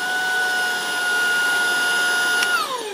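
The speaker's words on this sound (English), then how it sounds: "you have to hold down this power button in order to get the vacuum to go" A Dyson V8 Animal cordless stick vacuum cleaner running steadily, a loud close motor whine with bright high-pitched tones, dropping in pitch near the end as it begins to power down.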